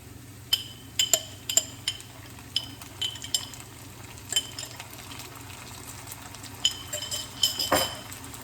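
A spoon clinks and scrapes in a dish as hot paprika peppers are stirred in while cooking a spicy salmon and brown rice dinner. Sharp metallic taps come in irregular clusters over a faint frying hiss, close and without speech.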